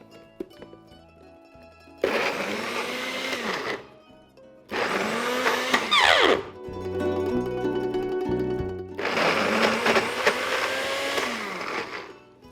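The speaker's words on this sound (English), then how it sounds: "Now we are ready to blend the broccoli pesto." A kitchen blender whirs through broccoli pesto in three loud, close bursts of roughly two to four seconds each, separated by short pauses.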